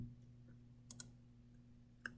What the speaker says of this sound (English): So let's see if I can just backspace or hit delete